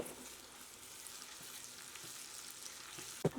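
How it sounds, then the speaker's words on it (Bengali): Chopped onion and garlic paste frying in a pan, a continuous soft hiss and crackle with a few utensil taps and a sharper knock near the end. "পেঁয়াজটা হালকা ব্রাউন কালার আসা পর্যন্ত ভাজবো।"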